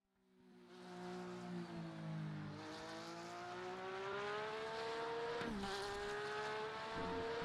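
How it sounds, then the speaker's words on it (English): A Porsche GT3R race car's engine in a racing video game, a loud sustained high-pitched whine climbing steadily through the gears with one quick shift dip, heard close and alone. "in the Porsche here, the Porsche GT3R, coming across the start-finish line, charging our way down in towards turn number 1"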